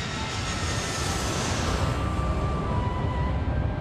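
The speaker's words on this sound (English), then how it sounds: "The plane arriving is about to make aviation history." A Qantas Boeing 787 Dreamliner arrives at Heathrow after a record non-stop flight from Perth. Its engines give a steady, loud, broadband roar that holds throughout, with no talk.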